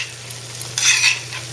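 A fork or spoon draws through a pan of mushroom vegetable reduction sauce in one short wet scrape, close up, over a steady low hum.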